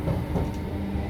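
A Northern Rail service to Wilmslow rolls along the line near St Helens Junction, a steady low rumbling drone of the train running close by with no break.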